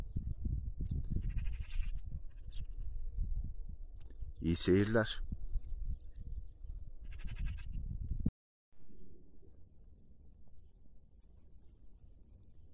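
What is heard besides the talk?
lambs bleating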